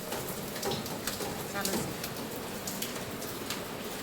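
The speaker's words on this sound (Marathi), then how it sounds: "एवढा पाऊस जोरात चालू आहे" Steady rain hisses continuously, a dense even wash of drops with faint scattered taps, fairly soft and unbroken throughout.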